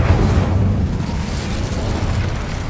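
The Incendio fire spell cast in Hogwarts Legacy on PS5 produces a loud, low whooshing burst of flame that erupts at once and then roars steadily with a rumbling body.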